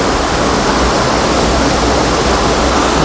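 Water gushes steadily and loudly from an outlet into the Nawabi lake at Uparkot, Junagadh, a dense continuous rushing roar close by with no pauses.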